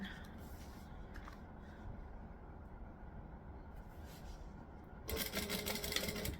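Sewing machine chain stitching and back stitching through vinyl for a gypsy bag with a drop-in lining, a steady mechanical whir that grows louder and busier near the end, with no talking over it.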